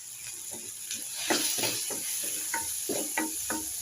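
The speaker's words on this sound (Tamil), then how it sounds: "மஞ்சள் பொடியை போட்டு நல்லா ஒரு கிண்டிடுறோம்." Tomatoes sautéed with turmeric powder being stirred in a pan for an egg kulambu, with a soft sizzle and a string of close scraping strokes at an uneven rhythm, no voices.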